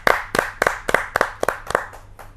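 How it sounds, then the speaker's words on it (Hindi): A crowd at a Hindi poetry gathering (kavi sammelan) claps to welcome a guest, with about nine loud, sharp bursts of clapping in a steady rhythm that grow slightly softer toward the end. "जोरदार तालियों के साथ हम उनका स्वागत"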